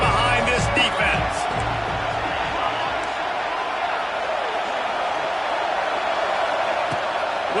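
Football stadium crowd cheering and roaring for the Florida defense on a third down, a loud, sustained wash of voices that holds steady throughout with scattered bursts and thumps early on.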